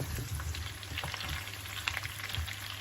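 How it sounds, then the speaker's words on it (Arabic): Zucchini frying in a pan, turned now and then with a utensil, giving a soft continuous sizzle dotted with light scraping and tapping stirs, close and quiet, with no voices. "هنفضل نقلب فيها كده اهوت من حين لاخر، بس نخلي بالنا ما تتهراش معانا"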